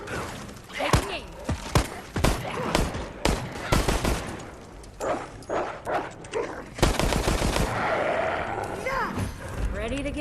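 In the video game Resident Evil Resistance, loud gunfire cracks out in irregular single shots and quick bursts, close and sharp, interspersed with thuds, impacts and game voices throughout.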